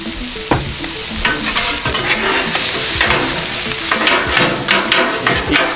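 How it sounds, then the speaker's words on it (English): Stir-fry sizzling on a Blackstone griddle while spatulas stir and scrape it, a loud, steady hiss punctuated by repeated metallic scrapes and taps, close by with no voices. "Keep stirring that up with the spatulas."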